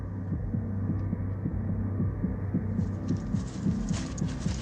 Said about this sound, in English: It's built on a rhythm, using the most primal beat of all, a heartbeat.